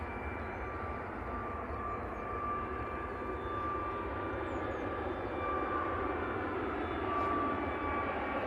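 Ryanair jet departing Manchester Airport for Tenerife, a continuous broad engine roar at moderate distance that swells slightly toward the end, with no one talking.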